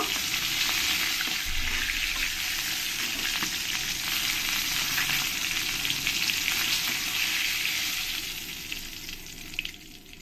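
Pieces of silver carp fry in hot oil, giving a loud, dense, continuous sizzle that holds steady throughout and eases slightly near the end, with no talking.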